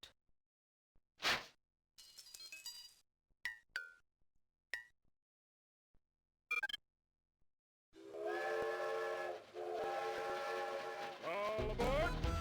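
In a Windows 98 puzzle game, a few scattered clinks and short tones are followed by a loud, sustained, harmonic train whistle that holds for several seconds with brief dips.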